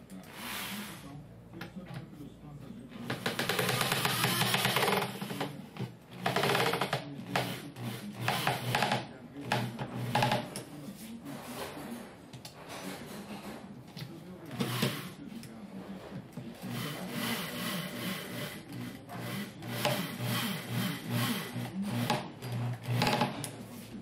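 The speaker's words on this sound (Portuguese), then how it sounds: "agora eu vou parafusar" Parts of a homemade toy car being screwed together, with a steady rasping, whirring drive sound that loudens after a few seconds and continues in bursts, close and fairly loud, with brief talk mixed in.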